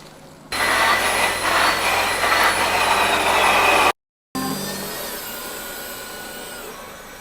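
A Hyundai Grandeur IG drives after a 6-speed transmission overhaul, with a loud, steady droning roar of engine and road noise that cuts out briefly and then resumes slightly quieter.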